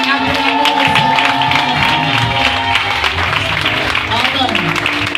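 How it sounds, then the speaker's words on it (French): A church congregation claps and cheers to acclaim the Lord, a loud, sustained crowd roar with clapping and voices mixed in, close and dense throughout. "Peuple de Dieu, on peut se lever pour acclamer le Seigneur"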